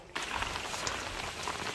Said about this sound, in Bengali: বৃষ্টি থেমে থেমে হচ্ছে না